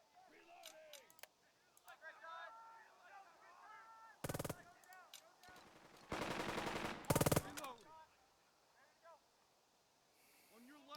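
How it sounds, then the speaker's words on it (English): Gunfire in the tactical video game Burden of Command as a squad fires on an enemy squad in a house, with loud bursts of rifle and machine-gun fire over a fainter background of game sounds. "Let's shoot at this squad in the house."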